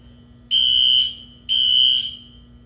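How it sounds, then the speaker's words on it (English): An office-building smoke alarm sounds two loud, piercing electronic beeps, each about half a second long and a second apart, over a faint steady hum. "that sounds like the smoke alarm"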